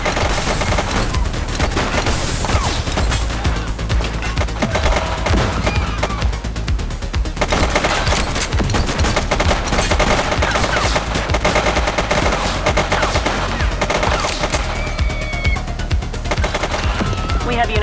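Sustained gunfire from the police video game The Precinct, rapid loud bursts and volleys with booms under a dense music bed, continuous throughout.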